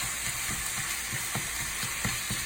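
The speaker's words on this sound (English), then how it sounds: "And get a nice sear on it." Ground meat searing in a hot pan, a constant loud hiss and crackle with periodic soft scraping knocks as it is stirred and broken up, no talking.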